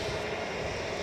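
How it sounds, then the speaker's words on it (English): An EasyJet Airbus A320 jet rolling past at Edinburgh Airport, a brief continuous engine roar and whine, close and steady, with no voices. "That's an EasyJet just strolling past me as if it was walking the dog."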